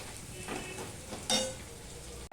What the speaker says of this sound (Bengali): তাই এইভাবেই ফোড়নে দিয়ে দিলাম